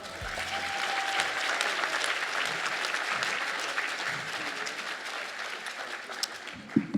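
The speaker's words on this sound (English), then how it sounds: "Let's please have one more round of applause for Koolbridge." Sustained audience applause fills an event hall at the 2026 Coastal Entrepreneur of the Year presentation, a dense, steady wash of many hands clapping for Koolbridge Energy in Wilmington, North Carolina, with a few louder claps near the end.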